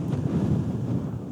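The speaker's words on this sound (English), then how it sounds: "Wow, it's windy down at this bit." Strong wind buffets and rumbles steadily across the microphone outdoors near a tent campsite, a low, constant roar with no other sounds.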